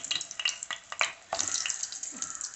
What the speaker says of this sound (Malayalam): ഇത് ഫ്രൈ ചെയ്യുമ്പോ എണ്ണ വേണം നന്നായിട്ട്. കട്ട്ലറ്റ് ആകുമ്പോ എണ്ണ മുങ്ങി കിടക്കണം.